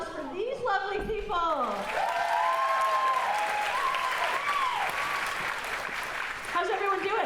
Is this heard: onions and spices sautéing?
no